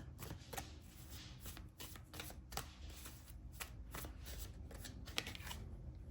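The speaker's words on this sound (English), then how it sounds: "let's get some tarot cards" Tarot cards shuffled in a steady run of crisp riffling bursts, close and moderately loud, repeating every half second or so with no voice over them.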